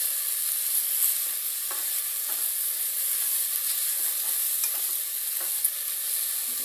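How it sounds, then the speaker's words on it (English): Bell peppers sizzle and fry in a pan over medium heat while being stirred, a steady hissing sizzle throughout with soft scraping stir strokes, no talking. "Keep stirring it on medium heat."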